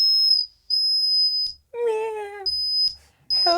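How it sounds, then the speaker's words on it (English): A Dreadbox Erebus V3 synth filter resonating on its own with a saw oscillator: piercing whistle-like high tones in bursts, interrupted by a brief wavering, harmonically rich sweep, loud and close. "just listen to the filter on its own"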